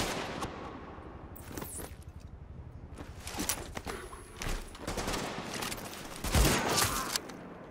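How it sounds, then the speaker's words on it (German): Sniper gunfire in The Division video game, a series of fairly quiet, scattered cracks and thuds in quick succession, with one heavier shot near the end. "Der Sniper ballert drauf."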